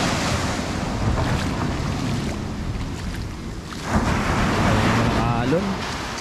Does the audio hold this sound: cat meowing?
no